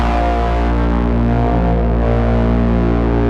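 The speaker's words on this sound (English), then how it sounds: "Beam Splitter is like a triple distortion, and I think it's gonna make the harp sound super wide for this." Harp notes run through an Old Blood Noise Beam Splitter triple distortion pedal, giving a dense, sustained and heavily distorted wide chord that holds steady and loud for a few seconds with no voices.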